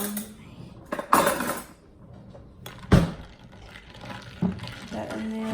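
A spoon stirs iced coffee sweetened with stevia in a cup, giving a few clinks and knocks against the sides alongside faint liquid swishing at close range, with quiet background sounds in between.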